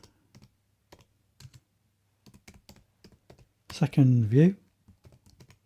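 Code is typed on a computer keyboard in sparse, close, crisp clicks spread over several seconds, with a brief burst of speech in the middle.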